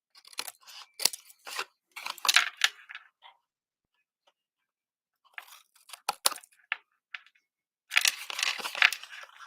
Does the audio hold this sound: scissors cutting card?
yes